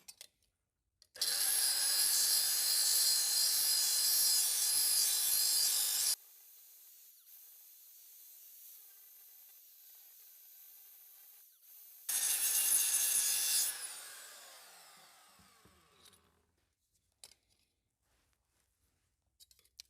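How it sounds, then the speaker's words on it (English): A power sander works a sheet metal weld in two loud, harsh bursts of several seconds each with a quiet gap between, the second burst trailing off as the tool winds down. "I can sand the rest of the weld"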